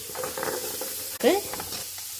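Chicken tikka masala sautéing in a pan, a continuous close sizzle broken by a sudden scrape and clatter of stirring partway through.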